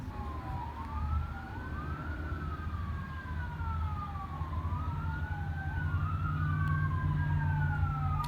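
Emergency vehicle sirens wail and sweep up and down continuously across a golf course, heard at moderate distance over a steady low traffic-like rumble, with no talking.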